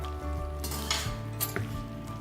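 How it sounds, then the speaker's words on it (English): Creamy tortellini pasta being stirred in a hot pan, with steady close sizzling and frying, soft scraping of a utensil against the pan, and a few light clinks, without talk. "why don't you give it a stir?"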